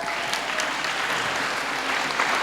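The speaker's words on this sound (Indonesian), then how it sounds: "tepuk tangan dong buat kaum muda" Steady applause from a church class audience for the young people, an even wash of clapping held throughout at moderate level.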